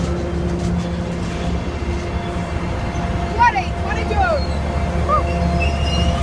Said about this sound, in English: this is the same train as earlier